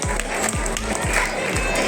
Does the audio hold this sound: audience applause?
yes